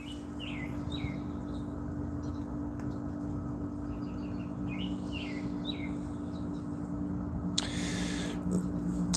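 Small birds at a seed feeder in summer, chirping in short scattered phrases over a steady low hum, with a brief rustling burst near the end.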